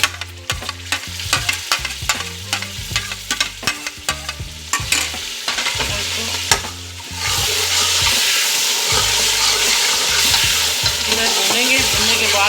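Peas and chopped tomatoes frying in a pan, starting with close rhythmic stirring scrapes over a sizzle that swells into a loud, continuous hiss as the tomatoes go in, no voices.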